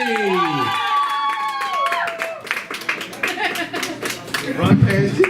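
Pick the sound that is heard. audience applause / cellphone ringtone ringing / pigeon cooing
audience applause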